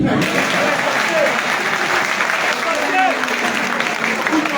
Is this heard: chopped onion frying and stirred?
no